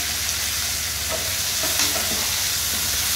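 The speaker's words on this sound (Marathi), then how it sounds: "त्याच्यानंतर आता मी टोमॅटो टाकून घेते" Tomato frying in oil over already browned onion, making a steady, close broadband sizzle with faint stirring scrapes throughout for a spinach pav bhaji style vegetable, no voices.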